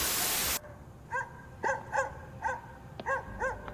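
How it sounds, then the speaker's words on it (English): A dog barks repeatedly in short, sharp yips, about eight barks in an uneven rhythm, moderately close, after a brief burst of noise at the start. "Okay, dog barking."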